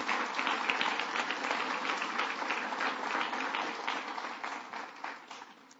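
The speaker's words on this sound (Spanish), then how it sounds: "Si lo va a aplaudir, apláudalo de verdad." A church congregation claps together in a sustained, fairly distant wash of applause that holds steady before thinning and fading toward the end.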